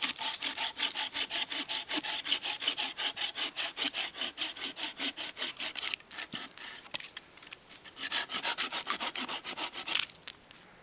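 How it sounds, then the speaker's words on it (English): A hand saw cuts steadily through a piece of fatwood outdoors, rapid rhythmic rasping strokes close by and loud, with a brief pause and shift in stroke pattern partway through before the sawing resumes. "So we've got our piece and we're sawing it up."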